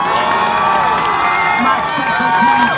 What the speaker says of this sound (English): Max gets a huge cheer from the crowd